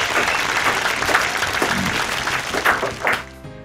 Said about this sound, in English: A round of applause for the infused grog